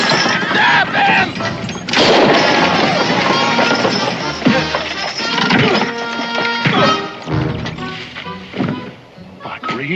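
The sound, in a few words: gunshot in a Western TV drama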